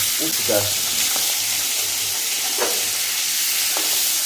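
Steady, loud sizzle of small hilsa fish frying in hot oil in a pan, a continuous dense hiss with a few faint clinks and brief voices in the background.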